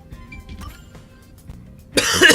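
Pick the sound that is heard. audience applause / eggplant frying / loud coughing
loud coughing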